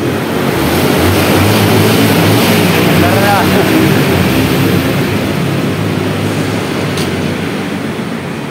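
A Honda CB125 motorcycle engine, one that misfires when wet from rain, running steadily and loudly up close, with a continuous drone throughout and a voice speaking briefly.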